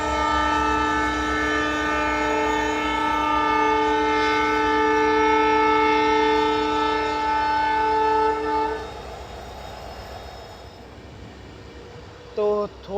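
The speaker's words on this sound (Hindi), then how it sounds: "तो थोड़े से अनशेड्यूल्ड हॉल्ट के बाद हमारी ट्रेन निकल चुकी है तिनई घाट से।" The 11097 Pune–Ernakulam Poorna Express pulls out of Tinai Ghat after an unscheduled halt, with a loud, steady, horn-like tone held for about nine seconds over rumbling rail noise, then fading into quieter running.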